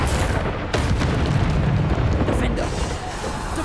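Depulso force spell cast in Hogwarts Legacy as a heavy boom over dense, continuous game combat noise, with other blasts and impacts mixed throughout.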